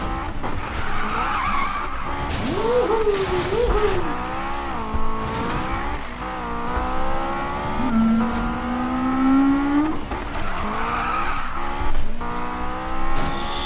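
A Honda S2000 racing in Need For Speed, played with a Logitech G27 wheel: a loud, steady engine drone rising and falling in pitch with gear changes, broken by long tire squeals and skids.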